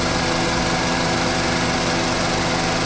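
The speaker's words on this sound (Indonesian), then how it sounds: "ini suara mesinnya." A 2012 Honda CR-V third-generation with the 2.0-litre engine running at idle, giving a steady, loud mechanical hum with a fine high rattle, heard up close and alone without any talk.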